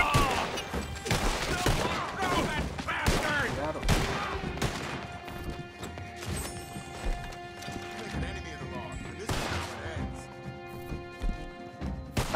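Gunfire in the video game Red Dead Redemption 2, a dense burst of shots mixed with horse hooves clip-clopping and whinnying. A player talks excitedly over the busy, continuous game chaos.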